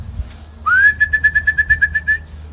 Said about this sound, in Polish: Jest następny gołąb, schodzi z wysoka.